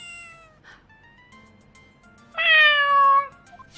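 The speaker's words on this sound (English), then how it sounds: "Let's find Shu, the kitty cat." A cat meows in the Phoenix Wright: Justice for All video game, with a soft early call followed by a louder, longer, bright meow near the end over a quiet background.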